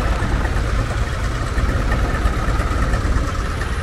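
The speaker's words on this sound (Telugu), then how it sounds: "ఇది ఒకటి మోటార్ అనమాట." A motor pump dewatering a construction site at the Amaravati capital towers, driven alongside tractors, drones loudly and steadily at close range with a constant low rumble and vibration.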